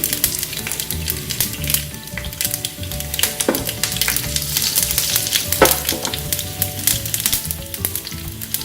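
Crushed garlic and dried red chillies sputter loudly in hot oil alongside cumin seeds, a dense, continuous crackling sizzle with sharp pops standing out now and then.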